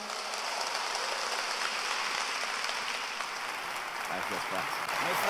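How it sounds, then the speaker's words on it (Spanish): A church congregation applauds with a dense, sustained patter of clapping that fills the room evenly, with a hint of voices rising near the end. "Dale un aplauso a Dios"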